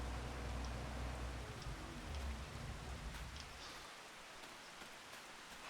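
Steady rain falls in the Farming Simulator 25 video game, a dense, even hiss of drops on surfaces with a low rumble underneath that eases slightly near the end.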